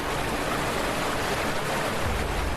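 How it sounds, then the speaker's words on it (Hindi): Floodwater from the rising Trishuli river roars as a broad, continuous rushing wash, loud and unbroken for the whole stretch. "पीछे से आती सैलाब की वो खौफनाक लहर देखिए।"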